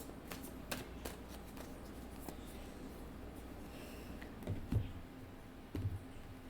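A deck of tarot cards is shuffled close by, with soft continuous riffling and a few sharper slaps near the end. The sound is fairly quiet and there is no speech.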